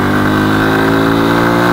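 Honda Super Cub 125 motorcycle from 2019 with its engine running steadily close by, a smooth, even drone with a low, continuous hum and no talking.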